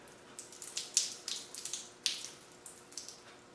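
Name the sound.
ice cold water running from a tap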